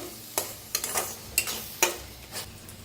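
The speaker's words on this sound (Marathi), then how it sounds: "आता भाजून घेऊया एक मिनिटभर असं छान असं भाजून घ्यायचा मसाला" Masala spices are roasted in a pan and stirred in several quick scraping strokes over a soft, continuous sizzle, heard close up.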